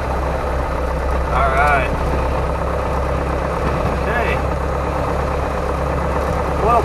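A Piper Cherokee 140 light aircraft engine idles at 1,000 RPM with a steady, even drone throughout, while a person speaks briefly over it.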